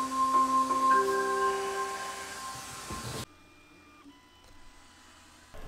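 A eufyMake E1 UV printer runs with a steady mechanical whine and tonal motor hum, its print head shuttling, then it abruptly drops to near silence with faint settling clicks.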